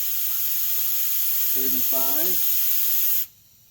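A paint sprayer hisses continuously at close range while painting a steel building, then cuts off abruptly near the end, with a brief voice murmuring beneath it.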